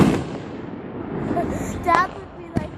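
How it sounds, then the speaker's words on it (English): Firecrackers going off outdoors during a fireworks show, with sharp cracks near the start, around two seconds and at two and a half seconds, while people talk excitedly over a constant crowd background. "ooh, look at it, firecrackers"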